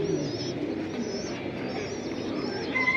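Pigeons coo softly and repeatedly at a seller's pigeon market, their low murmuring calls layered over a quiet background with a few brief higher chirps.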